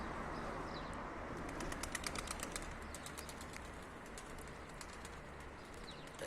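Birds chirp in faint, quick bursts over a steady noisy background, with some soft fluttering and cooing sounds.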